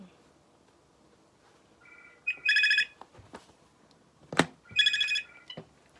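A phone ringtone sounds in two short bursts of rapid electronic trills indoors, with quiet surroundings and a few soft knocks and bumps between the rings.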